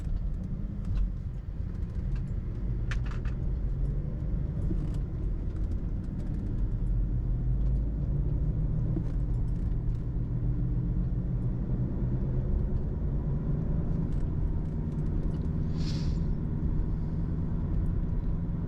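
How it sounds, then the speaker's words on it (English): A 2010 BMW 535i engine runs with a steady low rumble and a faint, uneven misfire, heard from inside the car with occasional light clicks over the drone. "I think the car might be having a little bit of a misfire issue"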